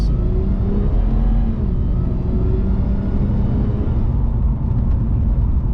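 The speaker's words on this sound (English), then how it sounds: "The whine from, I'm guessing that's the power steering pump, is sounds like a supercharger." A thin mechanical whine from the power steering pump rides over a Ford FG Falcon G6's steady engine drone, rising and falling slightly as the car moves, fairly loud and close.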